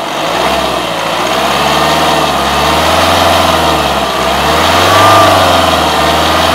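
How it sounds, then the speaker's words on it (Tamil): A Kia Carens 1.5-litre diesel engine is revved in neutral, a steady close, loud engine drone that rises and swells in pitch toward the end, with no talking over it. "இப்போ நான் ரைஸ் பண்ணுறோம், எப்படி இருக்குன்னு பார்க்கலாம்."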